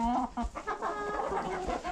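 Chickens cluck and chirp in quick, close bursts while being fed, with no talking, the calls overlapping in a busy little flock.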